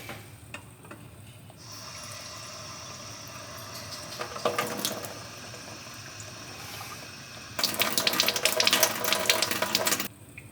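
Water is flushed through the gas tank of a 1967 Chevrolet Impala, sloshing and rushing in two bursts, a short one and then a longer, louder gush, over a quieter steady trickle.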